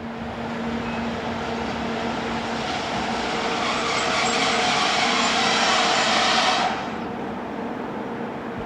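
DB Class 110 electric locomotive, number 110488, arriving at Kreiensen station in 2002, a steady loud rolling rumble and hiss that swells as it nears, then drops off sharply near the end.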